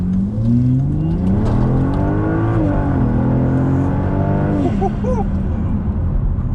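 A Volvo S60 T6 fitted with new turbo intake piping accelerates hard, its engine note climbing through rising revs with a gear change and turbo whoosh, heard from inside the car with a voice exclaiming near the end.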